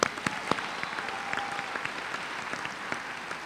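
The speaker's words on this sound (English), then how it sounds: "Give them a round of applause." A high school graduation crowd at Charles F. Brush High School gives a steady round of applause for assistant principals and the attendance supervisor, many hands clapping evenly in a large room.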